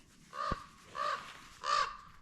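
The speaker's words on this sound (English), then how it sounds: "The wind is kicked up a little bit, and the ravens have arrived." Three harsh raven caws in a row, spaced evenly and moderately close, on a windy outdoor trout-fishing trip with faint background noise.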